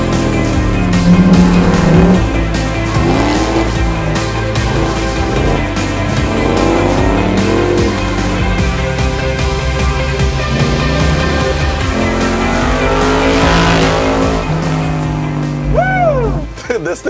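Factory Five Daytona Coupe driven fast, its loud engine rising and falling through shifts with tires squealing as the car slides, heard continuously from onboard.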